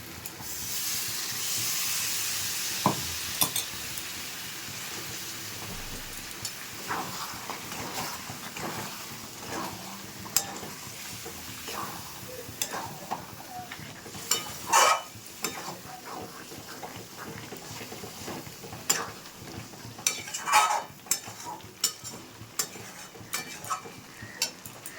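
Potatoes cook in a pan after a little water goes in, giving a soft steady hiss and simmer with scattered light clinks of a spoon against the pan.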